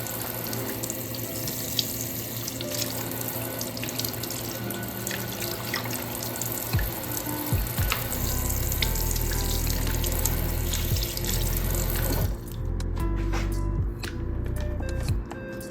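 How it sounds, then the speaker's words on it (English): Tap water runs steadily into a sink as salmon fillets are washed under it, a continuous close splashing rush with no speech until the flow cuts off near the end. "once I go ahead and wash the salmon, I'm going to pat them dry."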